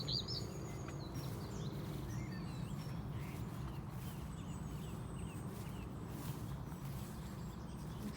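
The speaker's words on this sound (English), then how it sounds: "Listening to the birds." Distant birds chirping and calling over a steady low outdoor rumble at a farm field with hedgerows, faint intermittent tweets scattered across the recording.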